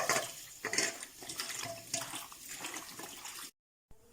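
Cut potatoes are rinsed in water by hand, with gentle splashing and sloshing plus small clinks against the bowl, fairly soft and close, ending in a brief silence and then a last splash.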